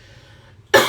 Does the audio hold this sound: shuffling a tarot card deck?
no